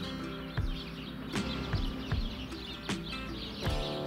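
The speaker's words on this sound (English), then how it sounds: "we can distinguish house sparrows and tree sparrows also by voice" House sparrows calling outdoors, a series of short chirps scattered at irregular intervals over a steady background of other birds.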